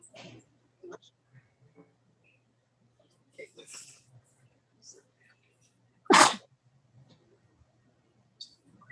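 One loud, sharp sneeze bursts out partway through a quiet stretch of an online meeting, with faint breaths and small room noises scattered around it.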